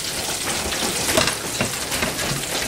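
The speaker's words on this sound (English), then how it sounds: "We shake the grease a little bit." Shrimp sizzle and crackle steadily in hot grease as the pan is shaken, a close, dense frying hiss with small pops throughout.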